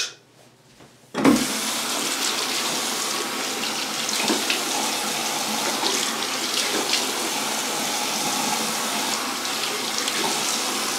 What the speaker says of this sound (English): put water on this soap and get my hands really wet with the soap